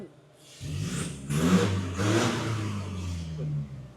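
A modified car with a 1.9 engine and an aftermarket exhaust pipe revs in a few rising bursts. The engine note is moderately loud and throaty, swelling and falling over a few seconds.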